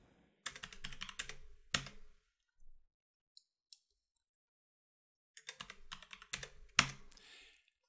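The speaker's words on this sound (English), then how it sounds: "So I'm just going to type it in." Typing on a computer keyboard during a PowerDirector editing session: two bursts of quick, close clicks separated by a near-silent pause, with a few isolated taps between them and no talking.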